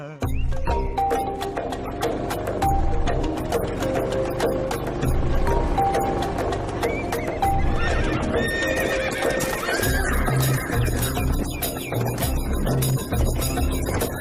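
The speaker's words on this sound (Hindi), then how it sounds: "इतने सारे घोड़े यहाँ कैसे?" Several horses whinny repeatedly while hooves clop steadily nearby, a busy, loud herd scene with dense continuous layered sound throughout.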